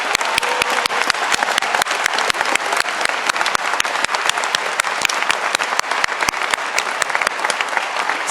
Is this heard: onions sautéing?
no